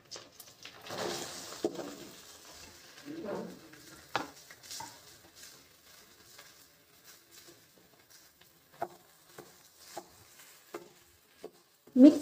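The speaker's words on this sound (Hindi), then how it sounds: "मिक्स करते हुए हम इसे भूनेंगे।" Chopped bottle gourd (lauki) being stirred and roasted in a pan with coriander, giving soft scraping and patting of a spoon against the pan with faint sizzle, a few sharper knocks near the end.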